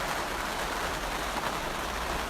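Steady rain falls outdoors in Ireland as a dense, even hiss with no pauses and no voices.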